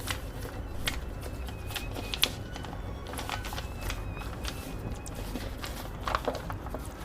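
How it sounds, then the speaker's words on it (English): A sheet of paper is creased and folded into an origami bat plane, making soft close rustles and crisp crinkling taps at an irregular pace, without talk. "And now you fold this section back again like this, and then fold this inwards."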